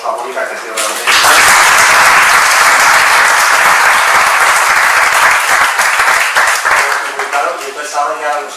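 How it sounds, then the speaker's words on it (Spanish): An audience at the close of a Creative Europe financial guarantee workshop breaks into loud, sustained clapping that swells after a second and tapers near the end, with a voice talking briefly at the edges. "el aplauso a Mónica"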